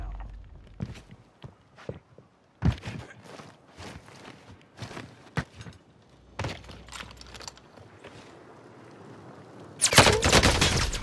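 Gunfire in a Call of Duty match: scattered sharp shot bursts and clatter over roughly ten seconds, ending in a loud, dense volley of rapid fire, with no talk.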